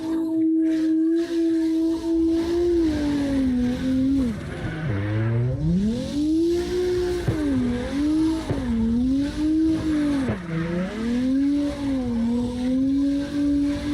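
Supra with 1,006 horsepower drifting in CarX Drift Racing Online, a steady loud engine howl rising and falling with throttle while tires squeal continuously through long sliding corners.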